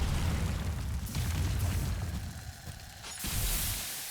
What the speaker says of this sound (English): when its duration is up, it will detonate and it'll do fire damage